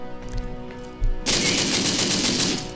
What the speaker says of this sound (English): I'm going to fire down at that guard.